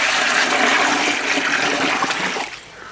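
Five litres of water pour out in a loud, continuous gush close to the microphone, tapering off near the end, with no talking.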